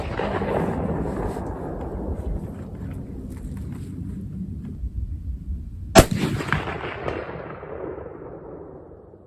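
A sharp, loud shot from a Belgian Mauser .30-06 rifle cracks once, followed by a long rolling echo that fades slowly, over a low continuous rumble of an earlier report decaying.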